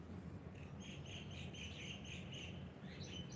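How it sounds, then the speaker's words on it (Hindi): Birds chirping in the early morning, repeated bright tweets in quick rhythmic bursts, moderately close over a constant low background rumble. "सुबह की सुंदर अमृत वेला में पक्षियों की सुंदर चहचहाट के साथ"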